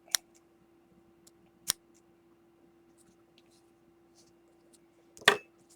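Scissors snip off loose thread tails on a finished piece of Algerian filling stitch embroidery, three crisp separate cuts spaced a few seconds apart, close and quiet, with no talk.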